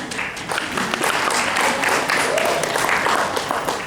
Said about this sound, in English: give yourselves a round of applause for coming